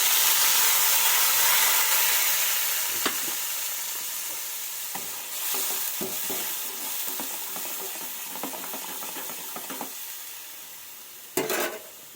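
Sliced bitter gourd sizzles and hisses in hot oil with added spices, while a utensil stirs and scrapes the pan in scattered bursts and one sharper clatter near the end.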